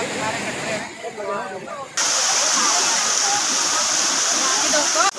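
Swollen Gola river rushing hard after heavy overnight rain, flooding near farmland and a temple area; a loud, steady broadband roar of fast water that turns fuller and denser after the first two seconds, with voices faint underneath early on.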